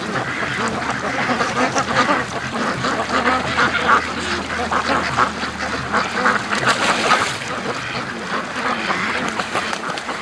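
A crowd of ducks quacks continuously and loudly near a creek whose mouth is blocked by ice, the calls overlapping in a busy, unbroken chorus.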